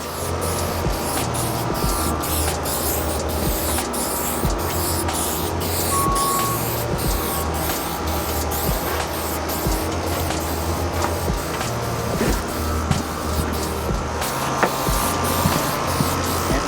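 Aerosol can spraying a light dusting of clear adhesion promoter onto a polyurethane front lip, Evo X Voltex style, a steady close hiss that runs unbroken through the whole stretch with no talk.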